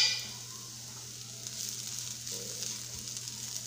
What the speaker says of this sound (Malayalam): രണ്ടാം പാൽ ഒഴിച്ചു കൊടുക്കാം.